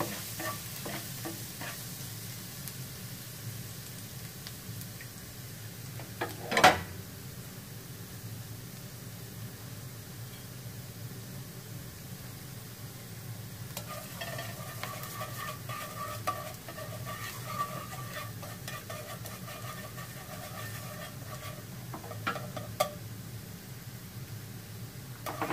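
Minced garlic and lemongrass sizzling in hot oil in a pan, a steady frying hiss with occasional stirring scrapes and clinks, close and moderately loud, no talking.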